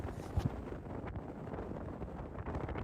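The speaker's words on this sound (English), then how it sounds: "it's still pretty windy there" Steady gusty wind buffets the microphone at the Willow Springs race track, a continuous low rumbling roar with a couple of brief thumps near the start and no voices.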